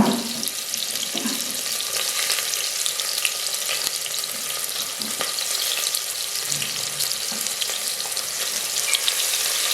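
Onions frying in a pot for Bannu-style beef pulao, a steady broadband sizzle with faint hissing crackle running continuously throughout, no voices.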